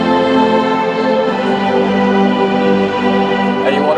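Sustained synthesizer pad from a Rob Papen Blue II preset, a smooth, rich chord holding steadily with a gentle shimmer, alone and fairly loud.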